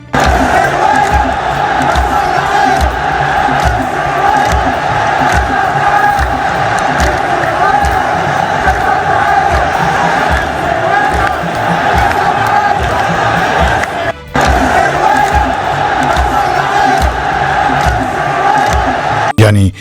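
A large crowd of Saudi football fans chants slogans loudly and continuously, celebrating a win over Argentina. The rhythmic, roaring voices are dense and sustained, with only one brief dip partway through.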